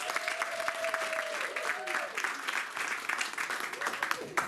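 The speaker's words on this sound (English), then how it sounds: "Can we give them a massive round of applause?" Soft, fairly distant applause from a conference audience in a hotel hall, a continuous patter of clapping with a voice and some tonal sound running over it.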